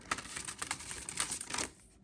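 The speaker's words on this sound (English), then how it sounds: "So you can just shuffle them like this." A deck of playing cards is shuffled up close in quick rattling bursts of crisp clicks, several riffles in a row before the sound drops to quiet.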